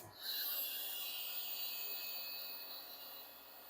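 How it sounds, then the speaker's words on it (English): A Ryobi heat shrink gun blows with a steady, airy whoosh as it heats shrink tubing on battery wiring. The fan starts up and then holds at a constant, moderately quiet level. "it's just a Ryobi heat shrink gun"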